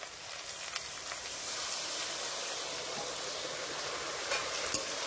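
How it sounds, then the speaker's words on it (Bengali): Ground spices, ginger, cumin and dried chilli paste fry in a pan for a vegetarian jackfruit curry, giving a soft, even hiss that swells slightly and carries on steadily with a few faint pops. "এবার ভালো করে কষে নেব।"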